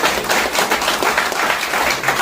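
Loud applause from a crowd at a training programme, dense continuous clapping filling the whole moment.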